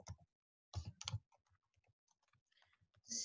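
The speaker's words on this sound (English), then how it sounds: "So I want you to type in on your Microsoft Word" Keys on a computer keyboard are typed in short bursts and scattered single clicks, close and quiet, with brief pauses between them.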